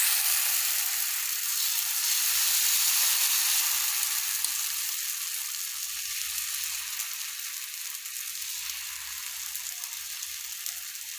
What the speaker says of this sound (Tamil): இப்போ பாத்தீங்கன்னா இந்த மாதிரி நல்லா தூக்கி ஊத்திக்கலாம் மாவை.